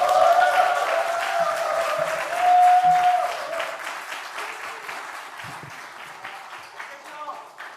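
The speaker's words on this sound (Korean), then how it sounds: "여러분들 큰 박수 해주시기 바랍니다" A church congregation at a Daniel prayer meeting applauds a youth testimony speaker coming forward, broad steady clapping that swells briefly and then thins out, with a voice speaking over it.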